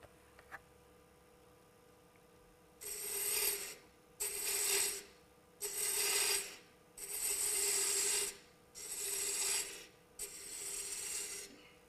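A wood turning gouge cuts a narrow cove on a lathe in six steady bursts of rasping, each lasting about a second with short pauses between, close and fairly loud over a low motor hum.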